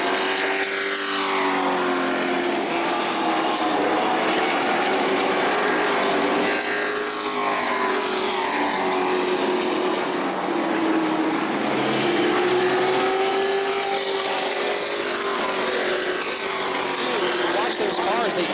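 Sportsman race cars at New Smyrna Speedway roar continuously around the track, a loud sustained engine drone with rising and falling pitch as the pack passes, overlaid by a commentator talking throughout.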